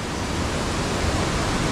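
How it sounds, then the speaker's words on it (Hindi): Waterfall near Norbulingka in Mcleodganj, seen from above by a bridge, a loud, steady broadband rush of falling water with no break and no voices. "ये देखिए नीचे सुंदर झरना"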